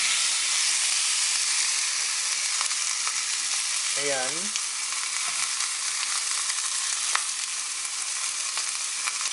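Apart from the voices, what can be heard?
piri piri chicken sizzling on the grill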